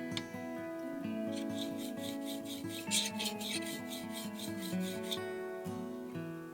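A curved plane blade is honed to raise a burr, giving a close, steady rasping rub with a quick back-and-forth pulse, quiet and uninterrupted for several seconds.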